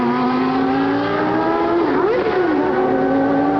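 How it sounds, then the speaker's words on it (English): A McLaren Formula 1 car, with a 1989 German Grand Prix V10 engine, screams past at full speed, a loud sustained high-revving whine with a Doppler pitch drop as it passes. "Here comes Senna, meanwhile, at full song."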